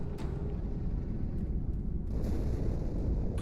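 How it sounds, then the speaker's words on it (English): Inside the Halo 2 video game, an explosion aboard the ship Athens produces a deep, continuous booming rumble that stays loud and heavy throughout, with a few faint sharp crackles on top. "Die Explosion kam aus dem Innern der Athen, genau wie bei der Malta."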